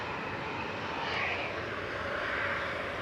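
Steady, loud broadband roar of a Jet2 airliner's jet engines close by at Manchester Airport, a continuous wash of noise with no talk over it.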